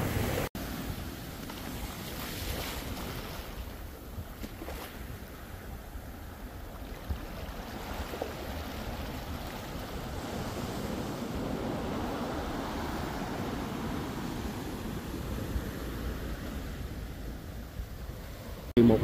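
Waves on the empty Mirissa beach in Sri Lanka, a continuous washing roar of surf mixed with wind buffeting the microphone, steady for the whole stretch.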